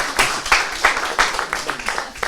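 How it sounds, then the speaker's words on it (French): An audience applauds after an interview, with a quick run of clapping at close range and a few voices mixed in. "on peut applaudir Jeanne pour sa première interview"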